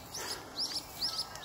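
Magpies squabble over territory outdoors, giving a run of harsh, chattering calls that repeat in quick bursts at moderate distance, fairly faint with no voices.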